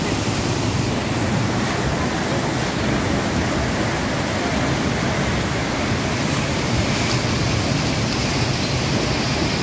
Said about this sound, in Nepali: यो पुतली धरानको खरे यो खोला यस्तो अवस्थामा उर्लिरहेको छ अहिले